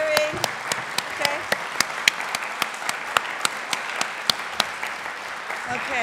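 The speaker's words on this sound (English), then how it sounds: "So we'd like you to vote by clapping and cheering." An audience claps and cheers to cast a vote at a freethinkers' gathering, with steady applause, sharp individual claps and a few voices rising through it.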